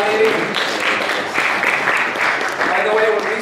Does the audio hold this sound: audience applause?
yes